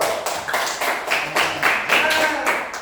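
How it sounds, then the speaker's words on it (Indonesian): A classroom of students claps hands together after a coding program runs successfully, a steady patter of overlapping claps continuing for a few seconds with voices talking underneath. "Tepuk tangan dulu."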